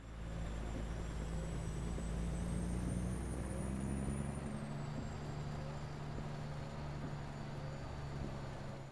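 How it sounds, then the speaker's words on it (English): Peterbilt 389 truck engine in a trucking video game while hauling dynamite, a steady low droning rumble that runs throughout with a rising then falling whine partway through, fairly quiet and without talk. "I just absolutely love the sound of this truck."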